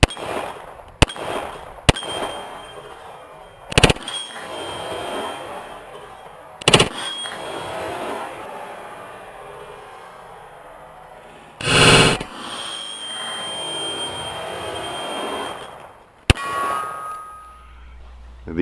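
A Standard Manufacturing color case hardened full-size 1911 .45 fires spaced single shots at steel plates on an outdoor range, each sharp report followed by a bright ringing clang, with faint talk between shots.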